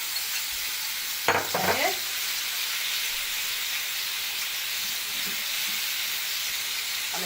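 Marinated chicken shawarma sizzles on a grill with a steady, close frying hiss. A brief clatter of pieces landing comes near the start, and a voice briefly speaks over it.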